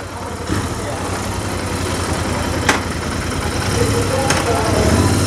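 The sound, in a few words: Royal Enfield Interceptor 650 motorcycle engine on test ride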